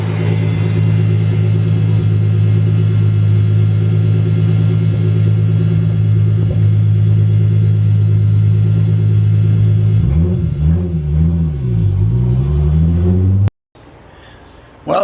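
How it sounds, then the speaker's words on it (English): VR6 turbo car cruising on the road, a loud steady engine drone with a constant hum throughout that wavers and shifts near the end before cutting off abruptly. "This fuel pump is loud."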